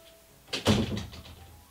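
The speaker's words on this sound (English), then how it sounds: "Can you close the door?" A door swings shut with a single solid thunk followed by a brief rattle, close and fairly loud in an otherwise quiet indoor room.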